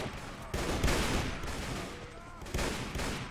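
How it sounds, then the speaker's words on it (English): Rapid gunfire from a machine gun in the Warband mod Red Wars comes in dense, loud bursts with short gaps, filling the scene without talk. "Okay, let's switch back to my machine gun."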